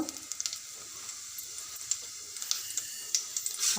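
Cumin seeds sizzle in about three spoons of hot oil for a lentil and ridge gourd curry, a soft steady hiss with scattered light pops and crackles close by.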